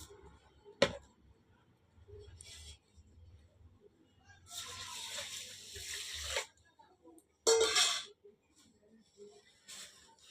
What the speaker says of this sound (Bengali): এই যে বিরিয়ানির চাল, চালটাকে ভিজিয়ে দেবো।